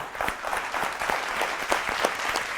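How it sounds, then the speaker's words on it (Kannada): An audience at a Kannada stage music show applauds the singer, a dense, steady burst of many hands clapping at once with sharper claps poking through, loud and continuous throughout. "ಅವ್ರಿಗೊಂದು ಜೋರು ಚಪ್ಪಾಳೆ ಕೊಡೋಣ"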